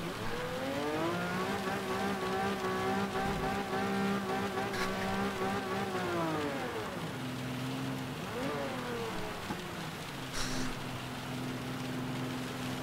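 A car in the racing game Gran Turismo 7 revs hard as its wheels spin and slip on a slick surface, a loud, steady engine drone rising and falling in pitch with occasional brief tire squeals and no talking.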